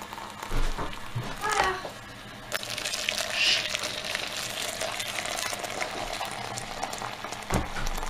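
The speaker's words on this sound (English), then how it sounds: "so just add our water, make sure I get it in the jug while I'm not looking" Water pours into a jug for making stock, a continuous hissing gush with a few clunks and a louder splash partway through, up close, while a person talks over it.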